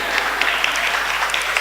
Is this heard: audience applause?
yes